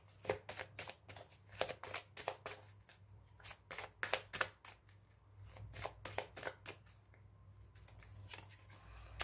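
Tarot cards are shuffled and handled in quick, crisp riffling bursts of papery flicks, close and fairly quiet, with no talking.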